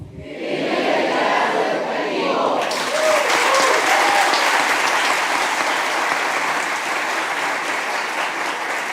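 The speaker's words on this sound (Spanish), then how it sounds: "todos aplaudimos un ratito para que nuestros compañeros puedan realizar la toma, por favor" A seated audience at an educational event in Ecuador bursts into loud, dense applause that holds steady for several seconds, with a few voices calling out amid the clapping.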